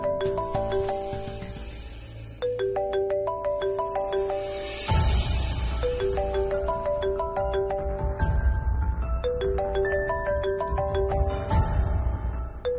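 A melodic electronic ringtone plays on and on in a repeating pattern, loud and close, with no talking over it.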